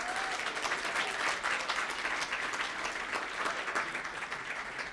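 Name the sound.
audience applause for Kate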